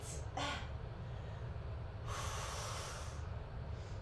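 Heavy, effortful breathing under strain: a sharp snorting inhale near the start, then a longer rushing breath midway, close and fairly faint over a steady low hum.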